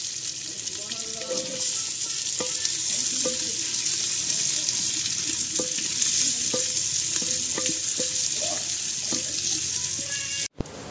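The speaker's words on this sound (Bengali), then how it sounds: "যতক্ষণ না ভালোভাবে বাদামি কালারে ভাজা হয়ে যায় ততক্ষণ আমরা পেঁয়াজটিকে ভালোভাবে ভেজে নেব।" Sliced onions frying in a clay pot over a village clay stove make a loud, dense, continuous sizzle, with scattered scraping and clicking stir strokes and a sharp knock near the end.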